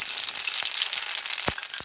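Mustard seeds and hand-crushed ajwain sizzle in hot oil for Surti papdi, a steady close fizz with a few sharp pops and spits crackling through.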